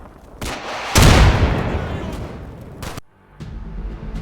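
Artillery fire mission in Combat Mission Cold War: heavy, booming blasts, with a big roaring impact near the middle that trails off slowly, then a sharp crack followed by quieter rumbling.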